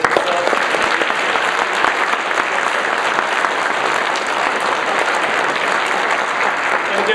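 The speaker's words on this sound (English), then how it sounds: "with your applause, would you just say thank you to Tim?" A church congregation applauds steadily, with dense, continuous clapping that stays loud and even throughout.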